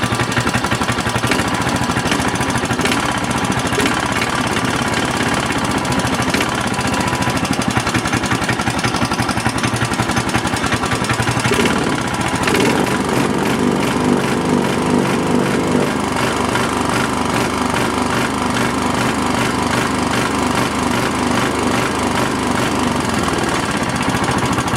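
A Trisport engine runs on throttle, a loud, continuous rough mechanical clatter and drone that holds steady for the whole stretch, close by with no talking.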